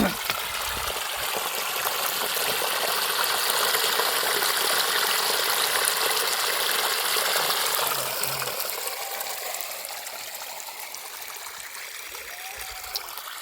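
Water gushes hard from the outlet pipe of an Ecozen 5HP motor pump drawing from a well, a loud continuous rushing spray that eases off slightly toward the end.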